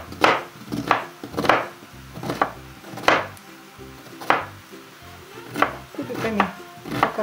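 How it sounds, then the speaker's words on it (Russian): A knife chops onions on a board as part of a sprats salad, with about ten crisp, separate strikes at an uneven pace, close and clear and with no talk. "Нарезаем лук."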